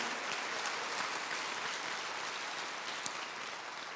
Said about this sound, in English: let's give applause for that band that was up here